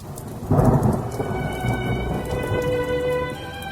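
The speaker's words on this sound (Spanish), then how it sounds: "estalló una súbita tormenta con gran aparato eléctrico" A sudden thunderstorm sound effect: a heavy thunderclap booms in close, then rolls and rumbles on beneath steady, dense rain pattering on surfaces.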